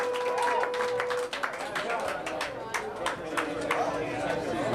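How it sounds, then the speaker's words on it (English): Concert audience at a small live rock show at Maxwell's claps steadily, a dense wash of hand claps and crowd chatter with a lingering tonal hum, fairly loud and continuous throughout. "Thank you for clapping."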